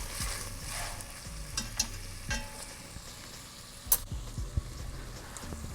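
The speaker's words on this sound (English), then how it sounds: "I'm gonna add a little bit more butter. Melt that down." Butter melting in a pot for a chicken pot pie roux, giving a steady, gentle sizzle close by with intermittent stirring scrapes and a couple of sharper clicks from the utensil.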